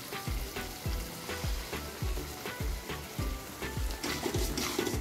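Spice paste mixed with yogurt fries in hot oil for rohu fish korma, giving a steady sizzle with repeated rhythmic scraping strokes of a spatula against the pan, close and moderately loud.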